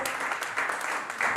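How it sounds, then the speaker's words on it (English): A short burst of audience applause at a forum on debt, youth, climate change and Nigeria's development, fairly loud and continuous throughout, with no speech over it. "Please, another round of applause."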